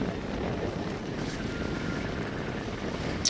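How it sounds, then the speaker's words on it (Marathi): A strong wind roars steadily across the open sea, buffeting the microphone, with a low rumble of waves and water underneath. "वारा जरा जास्तच आहे लाटा बघू शकताय"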